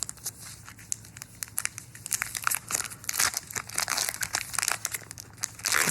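A Pokemon Scarlet & Violet 151 booster pack wrapper is torn open with a steady run of close, crisp crinkling and ripping foil over about six seconds, with no talk.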